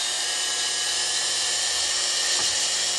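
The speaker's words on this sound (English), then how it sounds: "And just drill it slow." A power drill bores slowly through an aluminum window screen frame to fit a screen plunger, a loud, steady high-pitched whine that holds throughout, with a brief dip in pitch near the end.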